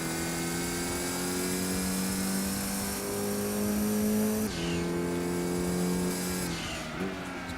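Race car engine from Gran Turismo 2, a Venturi Atlantique, holding a loud steady high whine with sharp gear-change drops near 4.5 and 7 seconds and faint tire squeal, with no talk.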